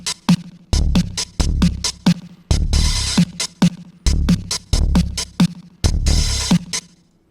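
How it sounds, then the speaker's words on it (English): Layered drums for an indie game soundtrack, a synth kick stacked with punchy percussion in a steady driving groove, repeated bright snare-like hits over deep thumps, loud and alone with no voices. "there is overlapping drums in the sense that a synth is being used as the kick"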